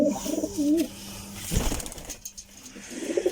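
Pigeons kept as prized birds coo in low, throaty bursts close by, a soft rolling call at the start and again at the end with a brief flutter or rustle in between.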